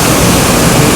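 Dudhsagar waterfall in Goa roaring as a steady, dense wash of falling water, loud and unbroken throughout with no voices over it.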